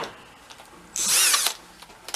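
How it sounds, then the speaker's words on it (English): A power drill spins up briefly to crank an antique military engine, one loud, whirring burst of about half a second in a quiet setting. "Get the drill. See if she'll fire up for us."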